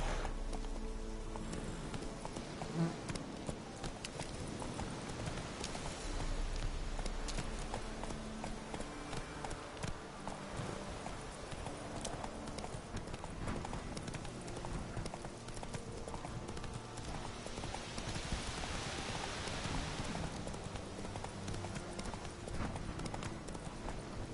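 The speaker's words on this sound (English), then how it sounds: "Not so fast, Roach" Horse galloping in The Witcher 3: The Wild Hunt video game, a long, continuous stream of close, rhythmic hoofbeats over game ambience, with faint talk at times.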